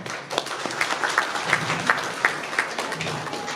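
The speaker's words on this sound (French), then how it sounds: "applaudissez pour vous-même." An audience at a Malian diaspora gathering with Mahamadou Cissé breaks into steady applause, dense clapping from a crowd sustained throughout at close range with a faint voice or two underneath.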